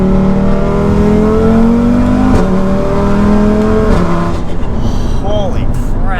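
A built-motor, big-turbo Audi RS3 making 800 hp with Quattro all-wheel drive accelerates hard, its loud engine note climbing through the gears with brief dips at each shift, heard from inside the car.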